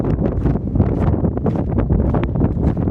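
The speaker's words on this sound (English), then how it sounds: "The wind's up a bit, so I hope you can hear me" Strong wind buffets a microphone outdoors, a loud, continuous low rumble with gusting crackle and no pauses, covering everything else.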